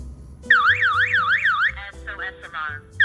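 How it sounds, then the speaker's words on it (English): Burglar alarm system siren set off by an infrared motion detector, a loud warbling electronic wail sweeping rapidly up and down, then shifting into choppier pulsing tones, close and alone. "After arming, the infrared detector can trigger the alarm when it senses the human body."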